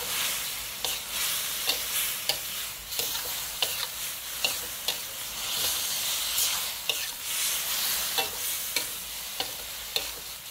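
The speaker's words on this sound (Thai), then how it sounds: "ใส่มะเขือยาวลงไปผัดต่อได้เลยครับ" Long eggplant with minced pork is stir-fried in a hot pan, a steady sizzle punctuated by regular scraping strokes of the spatula roughly every half second, close and clear with no talk.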